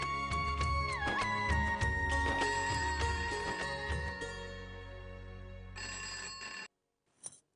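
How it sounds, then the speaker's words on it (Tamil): A mobile phone rings unanswered indoors, a bright repeating electronic ringtone melody that plays steadily for several seconds, then stops and gives a brief final chirp, with no voices over it. "அம்மா அர்ச்சனா ஏன் போன் எடுக்க மாட்டேங்கிறா ரொம்ப நேரமா மொபைலுக்கு ட்ரை பண்றேன்"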